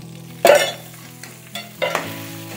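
A small pinch of oil sizzles while tempering spices and dried chillies fry for homemade pulihora tamarind rice powder. Sharp crackling bursts flare up three times, each fading into a soft hiss.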